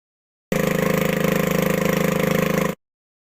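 A boat engine runs steadily for about two seconds, a close, loud, even mechanical chug that starts and stops abruptly.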